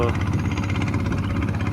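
A motorboat engine on a wide river gives a steady mid-pitched drone with a throbbing pulse as it passes fast nearby, while someone talks over it.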